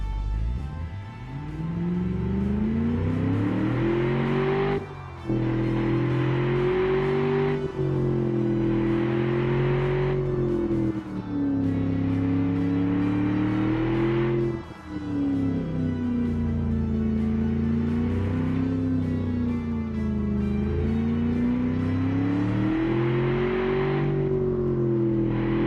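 A 4.6-litre car engine revs repeatedly, rising and falling in pitch through long sustained pulls, loud and close, with brief dips between revs.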